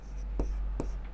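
Pen scratching on paper while a maths solution is written out, a few short strokes with brief gaps over a low steady hum.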